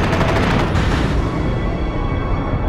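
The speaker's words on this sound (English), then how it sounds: "torn by machine gun fire." Machine gun fire from a WWII naval air battle, a loud continuous roar of rapid shots and rumbling blasts with a fast rattling pulse in the opening second, dense and without speech.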